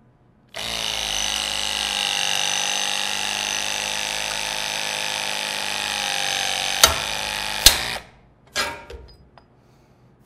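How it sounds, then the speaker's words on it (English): Greenlee LS50L battery-powered hydraulic knockout punch drives steadily through metal for about seven seconds, a continuous whirring hum, then stops with a couple of sharp clicks and a few fainter clunks as the hole finishes. "The driver is smart enough to know when the punch comes through the material and the hole is complete."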